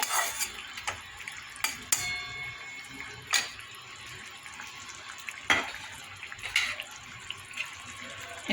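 Fish curry for mustard tangra being stirred in a pan after a drizzle of raw oil, with scattered spoon clinks and scrapes over a steady background hiss and faint voices.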